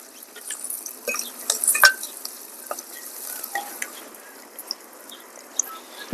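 Onions cooking in a pan, a soft continuous sizzle with scattered scraping clicks and taps from stirring, fairly close and quiet, with no voices.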